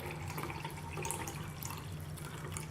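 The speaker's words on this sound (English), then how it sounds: "We'll fill our cup up with water." Tap water runs and trickles into a cup at a kitchen sink, a faint, steady splashing pour heard alone.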